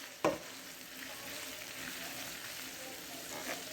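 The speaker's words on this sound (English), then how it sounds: "I think we've about got all of our hamburger brown" Ground beef sizzles steadily as it browns in a skillet, a continuous frying hiss with a sharp utensil scrape near the start and another faint scrape near the end, no voices.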